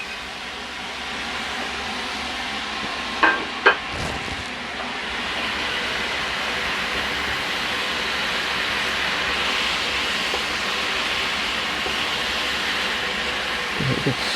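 Frozen spinach and mushrooms fry with onions in a pan, a steady broad sizzling hiss running throughout with a couple of sharp clicks early on, close and fairly loud with no talk.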